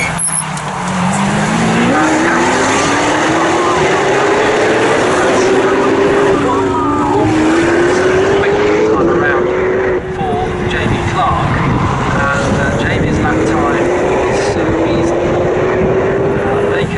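Ferrari Challenge race cars at Snetterton, engines loud and continuous as they pass, rising and falling in pitch with gear changes, with a commentator speaking over the noise throughout.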